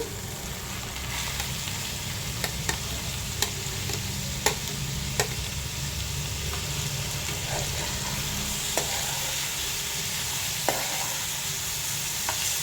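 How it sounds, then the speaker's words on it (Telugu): Grated pumpkin fries in oil with grated ginger, a continuous close sizzle with occasional sharp ticks of a spoon against the pan. "దీంట్లో నూనెలో గుమ్మడికాయ తురుము వేసుకుందామండి"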